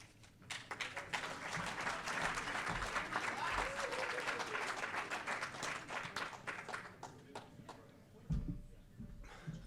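An audience at a Central Oregon pub talk breaks into applause for a speaker, a sustained wash of many hands clapping at moderate loudness for several seconds. A few louder thumps come near the end as it fades.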